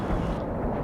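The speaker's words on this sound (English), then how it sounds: "That's an MLRS." An MLRS rocket artillery strike in the strategy game World in Conflict lands as a short, heavy, rumbling blast, a dense low roar filling the brief moment with no voices over it.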